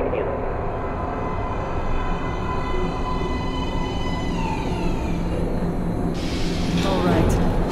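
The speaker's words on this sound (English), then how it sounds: "Train coming in." A subway train pulls into a platform in the game Metro: Last Light Redux, with a loud continuous rumble and rising whine of wheels and motors that swells toward the end.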